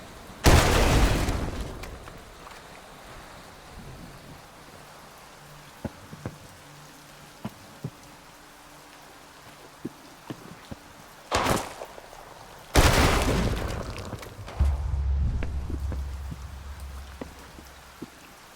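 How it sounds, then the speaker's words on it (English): Explosions in the shooter game Sancticide, two broad booming blasts separated by quieter stretches of faint clicks and ticks, the later blast trailing into a rumbling tail. "The explosion has huge range"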